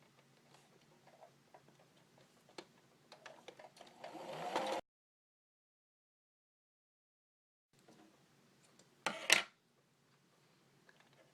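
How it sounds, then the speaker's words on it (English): A sewing machine runs a straight stitch across fabric cosmetic rounds, giving a soft, quick rhythmic ticking over a low hum. It stops abruptly into silence, then a brief louder burst of stitching follows. "I'm going to do just a straight stitch across"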